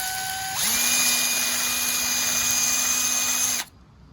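A power drill whirs steadily at high speed for about three seconds, loud and close, then cuts off abruptly into near silence.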